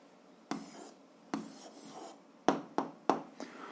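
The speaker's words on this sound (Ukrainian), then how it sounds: "записуємо відповідь, пишемо відповідь" A pen or pencil writes an answer by hand on paper, with short scratchy strokes and several sharp taps. It is close and fairly quiet, with no talking.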